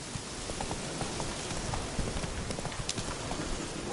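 Roach, the horse in The Witcher 3, clip-clops at a steady walking pace under a wash of rain, the hoofbeats soft and a little distant.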